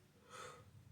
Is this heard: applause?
no